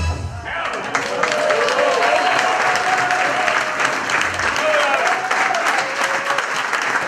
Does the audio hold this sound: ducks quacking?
no